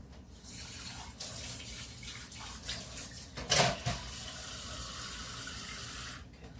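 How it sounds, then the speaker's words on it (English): Tap water runs steadily into a container in a home kitchen, a continuous broadband rush lasting several seconds with a brief louder splash midway, heard alone without talk. "let me just fill that up with water"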